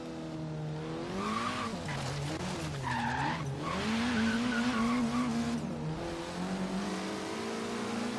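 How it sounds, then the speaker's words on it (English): A Honda Civic Type R with a turbocharged VTEC engine revs in the Forza Horizon 3 racing game, its pitch rising and falling as the engine climbs through gears, loud and continuous, with tire noise underneath and no talking. "Hear that VTEC kicking."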